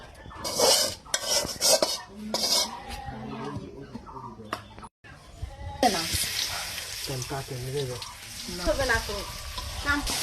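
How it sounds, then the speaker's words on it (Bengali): Fish coated with chili powder frying in a pan in a home kitchen. The first half has voices and utensil clatter, then a loud, steady, close sizzle continues to the end. "মাছটা এখন ভাজা নিব সুন্দর করে।"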